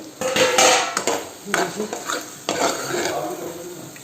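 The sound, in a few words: stirring and frying bottle gourd curry in a pan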